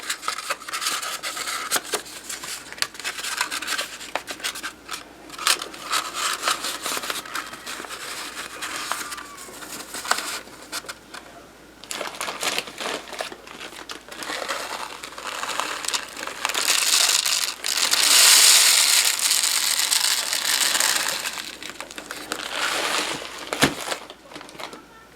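Dry rice is funnelled through a sheet of stiff paper into a homemade heat pad, making a long stretch of close crinkling, rustling and gritty pattering that swells and eases.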